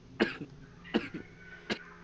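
Three short, sharp coughs spaced about a second apart, close and moderately loud, during a tabletop roleplaying game session.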